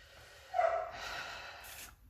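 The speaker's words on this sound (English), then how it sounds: "I'm sorry about BJ barking" A dog barks once nearby, followed by a short snorting or huffing breath, heard alone in a quiet indoor room.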